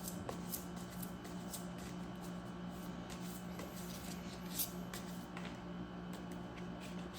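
Tarot cards are shuffled continuously close by, a soft steady riffling with quick crisp flicks repeating throughout.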